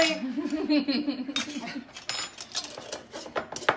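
A spoon clinks and scrapes against a cup while stirring, with irregular tapping and rattling bursts that sound shaky, close by, and a voice hums or speaks briefly at the start.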